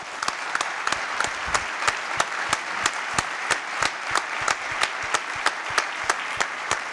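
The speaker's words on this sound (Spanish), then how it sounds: "para los que pido un aplauso" Audience applause at a tribute event for Diego Simeone, honoring footballers, heard as a steady bed of clapping punctuated by sharp, regularly spaced louder claps, continuous and fairly close.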